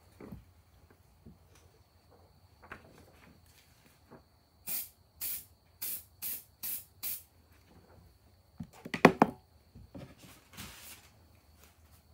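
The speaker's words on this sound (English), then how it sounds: "I'm going to go ahead and spray the picture really quick." Several short bursts of aerosol spray hiss close by in a quick series onto a picture being transferred to wood, followed by a clatter and a few faint knocks.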